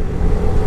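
Vehicles race along a road near Cox's Bazar at night, giving a brief, loud, steady engine rumble that passes close by.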